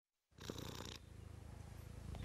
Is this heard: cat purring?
yes